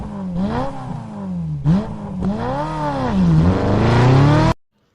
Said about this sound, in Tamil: அதுக்காக வண்டியை லைட்டாக வார்ம் அப் பண்ணிக்கிறோம்.